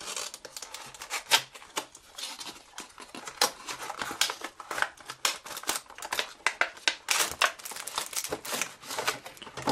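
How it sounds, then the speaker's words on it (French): Close, busy crinkling and tearing of cardboard and plastic wrap as a K-Board phone keyboard case package is unboxed, with scattered sharp rips and rustles in an uneven rhythm, no voices. "Alors on va tout de suite commencer le déballage."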